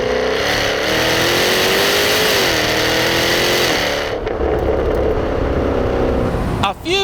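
A Jaguar F-Type Project 7 roadster engine roars loud and close as it accelerates hard, pitch climbing through gear changes before easing off, with a brief voice near the end.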